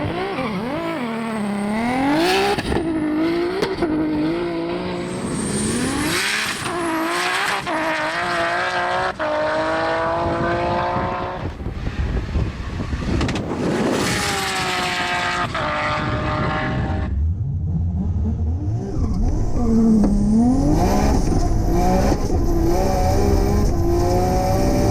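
A 1000 hp manual Nissan GT-R with a 7685 turbo and sequential gearbox launching on a drag run, loud engine roar climbing through gears with sharp shift breaks, fading into a distant rumble.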